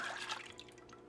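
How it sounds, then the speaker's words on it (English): A quart of goat milk poured from a container, a brief close liquid splash and gurgle that quickly tails off. "So I'm just gonna pour this. So 1 quart of goat milk."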